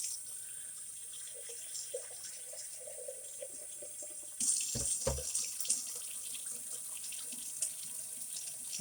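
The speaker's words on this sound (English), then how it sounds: "make sure the jar's rinsed out real good" Tap water runs steadily into a sink while a jar is rinsed out, with a louder splashing burst midway as the jar meets the stream, all close and without speech.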